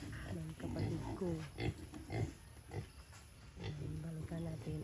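A farm pig, one of a family's pigs kept around the house, grunts repeatedly in short, close, rhythmic bursts, some louder than others, with a voice briefly audible among them.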